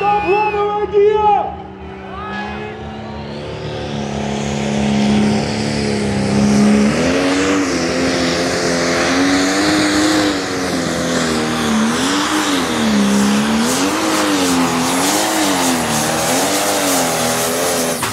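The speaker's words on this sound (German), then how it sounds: "2300 PS starke Schlepper aus den Niederlanden ist einer der besten in Europa." A 2300 hp pro stock pulling tractor from the Netherlands roars at the Füchtorf tractor pulling arena, engine climbing from idle into a loud sustained howl with wavering pitch surges as it pulls; an announcer talks over it.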